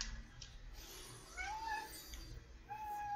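A house cat gives a few soft, faint meows at a distance over a low background hum, with short rising-and-falling calls spaced about a second apart.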